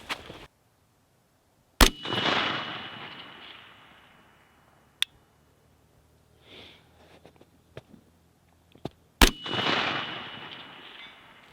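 A conventional rifle fires from a prone position on the ground at a long-range outdoor range. Two loud, sharp reports arrive several seconds apart, each followed by a long rolling echo, with quiet handling noises between them.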